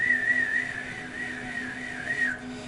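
Inside an abandoned school building, a voice imitates a high, wavering whistling sound, held steadily for a few seconds over a low background hum.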